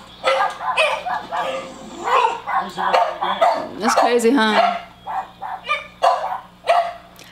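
Dogs in a small town bark in short yips and bursts under a person talking, with several barks spaced irregularly through the stretch.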